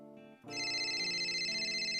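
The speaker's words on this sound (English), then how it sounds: "That's the phone ringing." An old cell phone ringtone sounds loud and sustained, beginning with a few soft tones before bursting into a bright, continuous electronic melody.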